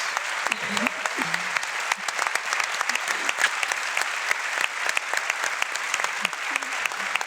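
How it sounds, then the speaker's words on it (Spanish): Sustained applause from a theatre audience at a cultural forum, a thick even roar of clapping close by that holds throughout, with a few voices faintly mixed in underneath. "Un aplauso, ¿no?"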